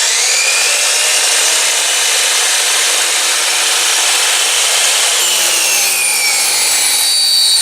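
Wood being sanded: a continuous bright, hissing rasp held at a steady level for several seconds, close up with no talking, changing slightly in texture near the end.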